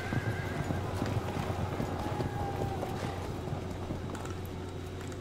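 Horses trot with steady clip-clop hoofbeats and a neigh in the Field of Glory II strategy game, a constant close layer of galloping and whinnying, with faint talk briefly over it.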